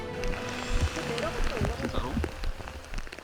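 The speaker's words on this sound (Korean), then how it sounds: "위장 크림이 모두 지워질 정도로 거세진 빗방울." Heavy rain pours down during military pilot survival training on a mountain, a dense hiss of drops under a voice speaking throughout.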